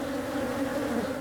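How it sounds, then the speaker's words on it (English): Bees buzzing around a hive in a wild equatorial frontier setting, a steady dense drone heard close and moderately loud for about a second, with no talk. "the bees will definitely come out to defend themselves"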